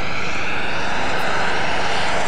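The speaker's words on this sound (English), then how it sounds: "this one's a 17-foot wingspan. and powered by twin jet engines" Large model aircraft with a 17-foot wingspan and twin jet engines flying at an air show, a loud steady roaring whoosh throughout.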